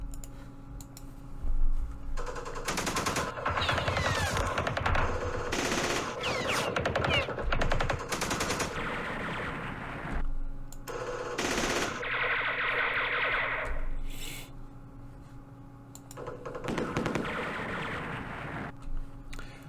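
Bursts of machine-gun and rifle fire from the wargame Campaign Series Vietnam, set in the Battle of Hue, come in rapid, echoing volleys separated by quieter gaps, with a few mouse clicks between them.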